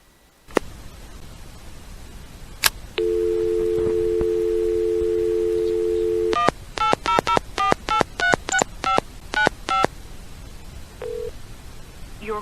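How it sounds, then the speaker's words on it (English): A Northern Telecom Centurion pay phone plays a steady dial tone, then a rapid string of about a dozen crisp touch-tone beeps as a number is keyed in, clicks before and a faint tone after. "you dial this number, 800-483-6595"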